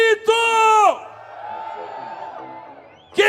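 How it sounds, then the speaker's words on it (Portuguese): A samba school crowd at a carnival parade shouts and cheers in a loud burst, then the roar fades into a sustained distant murmur before another shout rises at the end. "Quem tá feliz dá um grito!"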